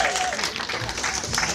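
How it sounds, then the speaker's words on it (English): A crowd at a rally clapping in a round of applause, a dense steady patter of many hands heard from nearby, with a voice speaking over it. "Leader of the 57th, Nikki Alabi, give her a round of applause."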